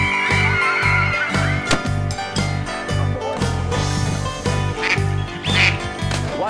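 Duck-like quacks and squawks ring out over a pulsing rhythmic music bed, repeated in bursts at a moderate volume.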